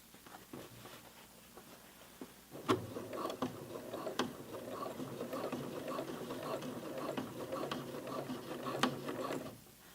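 A home sewing machine stitches a narrow jeans hem, a quiet rapid mechanical whirr and ticking running steadily for several seconds after a brief start, close up with no talking.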